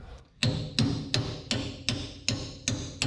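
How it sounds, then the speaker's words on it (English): A hammer strikes sharply eight times at an even, steady pace, each blow a loud close ringing knock that decays quickly. "New hammer?"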